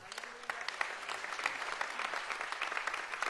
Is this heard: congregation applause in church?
yes